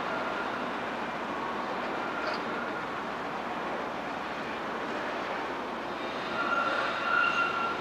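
A Toronto PCC streetcar on the westbound 512 route rumbles along its rails with a steady, even roar, and a faint wheel squeal rises near the end.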